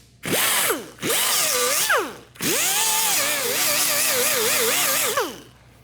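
An angle grinder with a worn-out disc grinds a steel panel during MIG weld repair work, giving three whining bursts, a short one, then another, then a long one. The pitch rises and dips as the disc loads and frees up.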